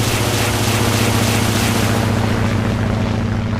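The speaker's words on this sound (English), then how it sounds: "It was a rocket attack." A rocket attack from aircraft in the naval video game Atlantic Fleet, Royal Navy Battle of the Atlantic: a loud, dense roar of engine drone and blasts that fills the whole moment, then thins slightly toward the end.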